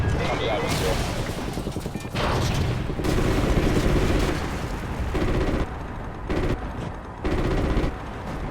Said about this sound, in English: We're still taking enemy AA fire from behind the smokestacks.